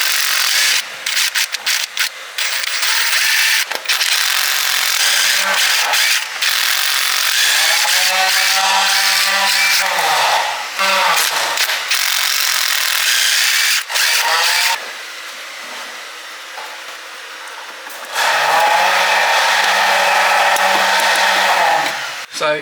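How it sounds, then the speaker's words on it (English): Power tools working loose the four bolts on the hidden tensioner of a Mini during a camper repair, with loud continuous whirring, rubbing and rising-falling motor tones in several long bursts, no talk. "we just got to get these 4 bolts off and hopefully slide it out"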